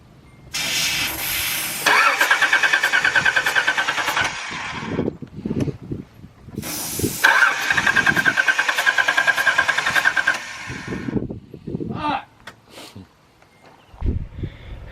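Nissan 300ZX engine cranking repeatedly: two long bursts of rapid, whirring starter churning, separated by pauses, then short uneven catches and sputters, loud and close, with little or no talk.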